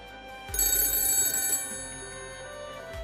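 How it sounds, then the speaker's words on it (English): A cell phone lying on a table rings with a bright, repeating electronic tone that starts abruptly, swells briefly, then continues steadily and close by. "my cell phone, sitting on the table, started ringing"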